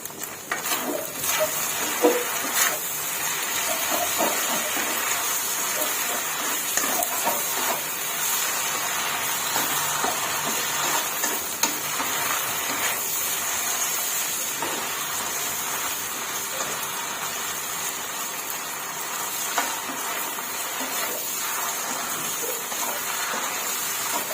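Wide rice noodles stir-fry over medium heat with soy sauce and egg in a pan, giving off a steady, even sizzle and hiss with faint scraping throughout.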